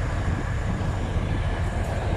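A passenger train waits at an Indonesian railway station, loading passengers before departure, giving off a loud, steady, close rumble with no break throughout.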